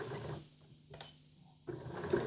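A sewing machine stitches forward and back on a cloth menstrual pad in two short runs separated by a quiet pause, the whirring motor close but fairly soft, with no talking.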